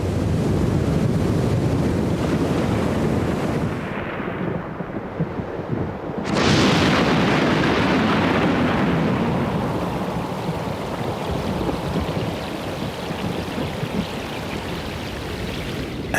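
Rough ocean waves surge and churn in a steady, loud roar under blustery wind, with a brief lull before the crashing water swells back in; no thunder stands out.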